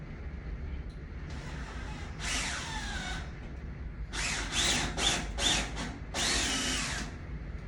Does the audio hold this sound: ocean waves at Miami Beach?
no